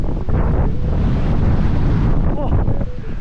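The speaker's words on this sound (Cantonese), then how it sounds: "好大風啊！" Strong stormy wind buffets the microphone on a suspension bridge over a fast river in Hooker Valley, New Zealand, a loud, continuous roar with gusty rumbling throughout.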